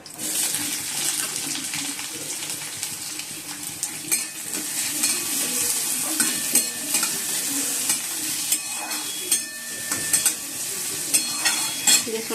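Onions frying in a pan of oil, with a continuous close sizzle and bubbling and occasional louder crackles and stirring scrapes throughout.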